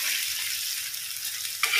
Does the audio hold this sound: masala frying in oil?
yes